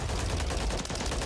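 Rapid bursts of video game gunfire from a team objective shooter match, dense and continuous across the whole moment, loud and close with heavy low-end rumble and no voices over it.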